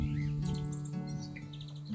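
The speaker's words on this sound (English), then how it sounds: "I can hear the song thrushes. I can hear more wrens singing this morning compared to last night." Song thrushes and wrens sing at dawn during a June bird survey on farmland, with bright chirps and trills over a low, steady background hum, moderately distant and without talking.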